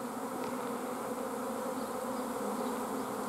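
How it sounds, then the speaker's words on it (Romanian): Honey bees stream out of their hive during rain as a swarm departs, a continuous close buzzing hum from many insects at an even level, with no talking. "O parte din albinuții."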